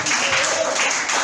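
A church congregation cheers and applauds at worship, a dense, loud wash of clapping and voices filling the room throughout without a break.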